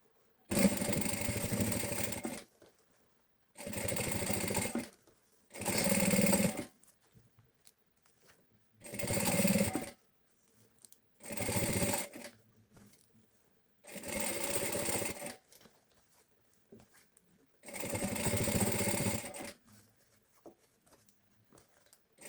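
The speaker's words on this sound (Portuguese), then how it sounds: "vou prespontar a toda a volta e vou começar numa das laterais" A sewing machine topstitches all the way around a handmade bag, starting at one side seam, running in seven bursts of about two seconds each with short quiet pauses between them, close and steady.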